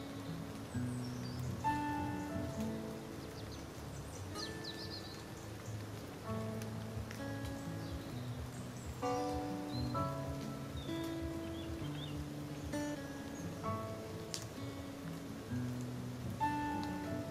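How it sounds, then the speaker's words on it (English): Steady autumn rain in Germany patters on surfaces and leaves, constant and fairly soft, with faint scattered tones in the background and no talking. "while the rain is pouring down"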